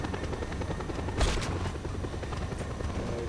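A helicopter in the video game Just Cause 2 drones with a steady, close rotor-and-engine roar throughout, with a brief louder burst midway and no talking.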